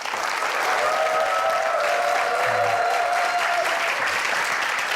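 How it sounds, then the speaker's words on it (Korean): A studio audience gives a guest, a restaurant-industry company CEO, a warm welcome with sustained, dense applause that holds steady for the whole stretch, with no voices above it. "여러분들 큰 박수로 환영해 주시면 고맙겠습니다"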